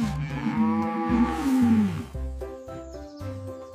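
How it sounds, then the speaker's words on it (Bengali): Cow mooing in a cartoon animal-sounds lesson for kids: a few loud, drawn-out lowing calls in succession with a deep harmonic tone that bends downward, close and clear with no talking. "এটা গরু। গরু বলে মাউ।"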